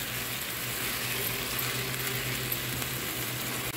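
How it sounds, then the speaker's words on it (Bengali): Onion and ginger fry in a pan with a steady, close sizzle and hiss that holds an even level throughout, with faint stirring noises and no voices. "আদা এবং পেঁয়াজটাকে ভালো করে ভেজে নিব"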